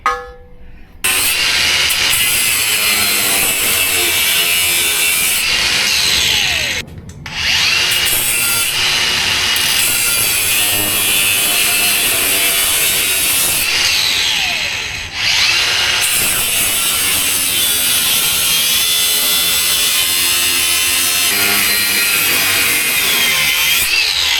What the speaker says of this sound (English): I'm gonna take out my grinder at up there and start cutting that piece away.